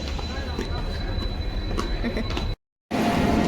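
A train rumbles through a busy railway station in Assam, with a continuous rolling clatter and murmuring voices of the crowd, then a brief cut to silence before the noise resumes.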